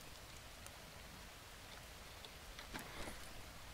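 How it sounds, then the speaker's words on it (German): Rain in the survival video game Green Hell falls as a dense, even hiss with scattered tiny drop ticks, soft and steady throughout, with no voices. "Und natürlich kommt der Regen."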